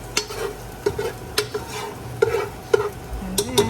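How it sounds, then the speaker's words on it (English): Pork pieces for Filipino adobo being fried in a pan, with soft sizzling under repeated clinks and scrapes of a utensil stirring, heard up close with no talking. "we're going to fry the meat"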